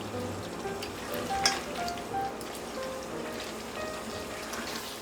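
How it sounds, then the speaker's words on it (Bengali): Beef korai gosht stir-fries on high heat, giving a soft, steady, rain-like sizzle close by with faint scattered pops and no talk. "চুলার আঁচটা হাইয়ে দিয়ে প্রায় 5-7 মিনিটের মতো নেড়ে নেড়ে মাংসটাকে ভুনা করে নিতে হবে।"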